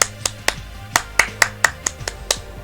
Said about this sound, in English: 3-3-7 clapping rhythm